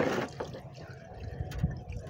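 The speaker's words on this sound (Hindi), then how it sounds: "अब इसका पानी निकाल देंगे" Washing water is poured off rice that has been rinsed three times, a soft, faint trickle and splash in a quiet room.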